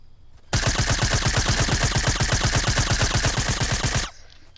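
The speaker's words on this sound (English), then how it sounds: "Someone shooting, I hear it." Automatic gunfire in Fortnite, one continuous rapid burst of evenly spaced shots lasting about three and a half seconds, loud and close, alone with no talk.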